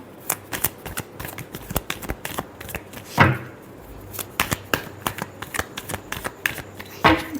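Tarot cards being shuffled by hand in a quiet room, a rapid run of crisp riffling clicks and slaps with a few louder snaps, steady throughout.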